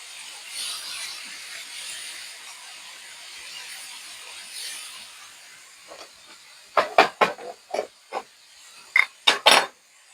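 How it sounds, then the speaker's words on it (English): Onions and bacon soften in a pan with a faint, steady hiss. Near the end comes a run of sharp, close taps and clicks, and no voices are heard. "I want to try to get the onions and the bacon cooked up nicely and just soften it some"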